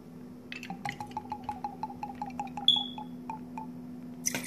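W.L. Weller bourbon is poured into a glass for a cocktail, a faint, close trickle with soft rhythmic glugging drips and a light clink partway through.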